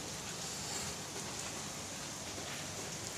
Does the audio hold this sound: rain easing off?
yes